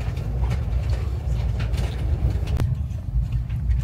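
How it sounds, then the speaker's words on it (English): Sapsan high-speed bullet train running, a steady low rumble with broadband rolling noise throughout and a brief sharp click midway. "So the Sapsan train is the bullet train, and the speed is very fast."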